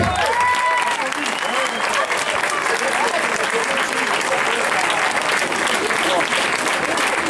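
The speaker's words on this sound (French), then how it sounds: "J'aimerais vous applaudir très fort Aurélien" A theatre audience at a Mamma Mia show applauds the performer Aurélien, a loud, sustained wash of clapping with a voice briefly heard at the start.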